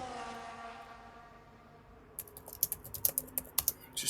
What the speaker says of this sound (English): Just typing away here